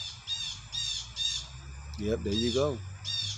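Crows caw repeatedly outdoors in loud, harsh bursts spaced through the moment, while someone speaks briefly over them.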